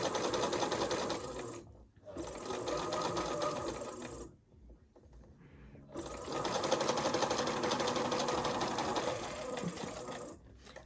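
A sewing machine stitches a flower patch in three long bursts of steady mechanical whirring, broken by short pauses where the fabric is adjusted.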